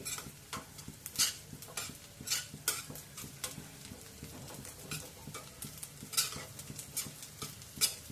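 Wheat grain sheera is stirred and roasted in a pan, with a steady run of quiet, rhythmic scrapes and clinks over a faint sizzle and no voices.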